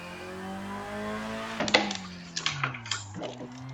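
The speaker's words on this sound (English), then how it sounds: "Hear the turbo." The turbocharged engine of a Mazda FC RX-7 revs under load in third gear, its hum shifting pitch, punctuated by several sharp, crackling bursts near the end.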